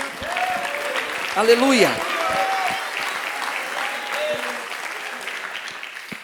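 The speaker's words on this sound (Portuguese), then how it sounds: "dando uma linda salva de palmas para Jesus" A church congregation applauds for Jesus, a sustained, even wash of many hands clapping, while voices call out and a sung or shouted exclamation rises briefly over it.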